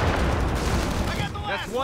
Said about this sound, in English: We're receiving enemy fire.